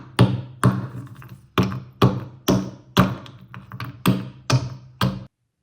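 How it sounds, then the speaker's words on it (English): Calcium carbide chunks are pounded and ground in a mortar, giving about a dozen sharp, hard knocks at an uneven rhythm, close and distinct with quiet gaps between strikes. "I put some of it into a mortar and tried to grind it down"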